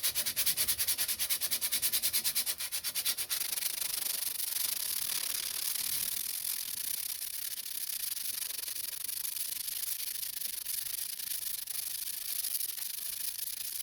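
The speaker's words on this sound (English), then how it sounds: "When I'm sanding with my hand" Sandpaper rubs steadily by hand against a wooden mattock handle, a close, continuous scratchy hiss that stays even throughout, with no voices.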